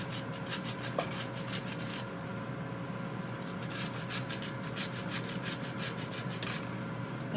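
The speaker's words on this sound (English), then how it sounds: "Zest this orange. Oh, it's getting a lot of good zest on it too." A large orange is zested with a grater in a kitchen, giving close, quiet scraping strokes in a steady rasping rhythm over a soft appliance hum, with a short pause partway through.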